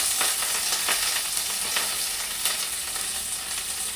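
Curry leaves and chopped green chillies sizzle in hot oil for drumstick curry. A loud, steady frying hiss continues throughout, broken by sharp crackling pops close by. No one speaks.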